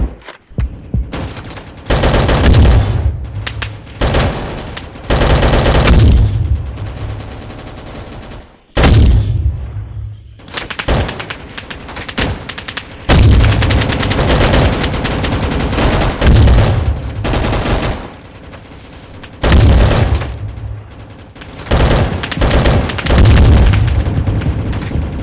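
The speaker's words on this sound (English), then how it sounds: "this gun literally one-shots people" Rapid bursts of automatic gunfire from an overpowered gun in a video game, loud and dense, come in long sustained volleys separated by short pauses, with no talking.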